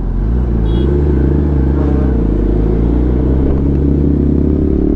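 A loud car engine roars nearby, its deep rumble climbing in pitch as it revs and overpowering a ZX10R motorcycle in a crowded street.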